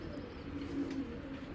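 Soft, steady pigeon cooing from an ash-eyed pigeon, low and continuous through the whole stretch and fairly close, with no talk over it.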